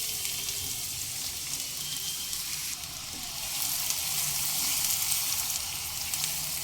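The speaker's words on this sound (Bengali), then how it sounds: "নেড়ে চেড়ে পেঁয়াজ সোনালি রং ধরে আসা পর্যন্ত ভেজে নিতে হবে" Chopped onions fry with whole spices in hot oil for a Bengali chicken rara, giving a steady, bright sizzle and crackle that swells a little louder in the second half, close and without talk.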